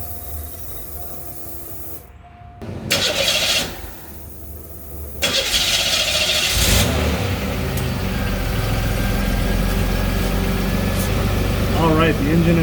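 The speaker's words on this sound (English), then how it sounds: "the engine is running" A 1988 Buick Electra engine cranks and starts with a burst of noise after a fuel filter replacement, then settles into a steady idle with a constant hiss, close by.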